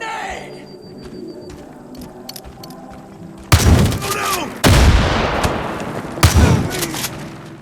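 A hand grenade goes off in the Far Cry 5 video game during open-world roadblock combat, a sudden loud blast followed by further booming gunfire bursts, with quiet ambient birdsong beforehand.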